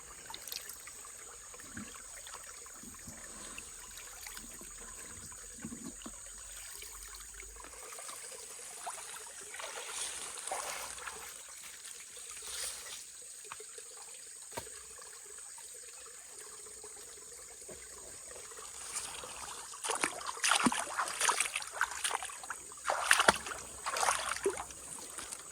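Water flows and trickles steadily through a gold prospecting carpet sluice at a swampy dig site, a continuous low wash with occasional louder splashes and gurgles building toward the end.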